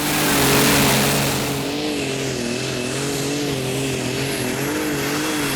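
A New Holland T6285 pulling tractor fitted with four turbos roars loud and close at a tractor pulling championship, its steady engine drone holding a wavering pitch throughout.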